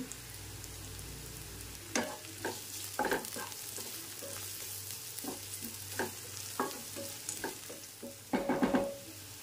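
Curry leaves and turmeric fry in a pan of oil for a prawn masala curry, giving a steady sizzle broken by repeated stirring scrapes and louder bursts of crackling, heard up close with no talking.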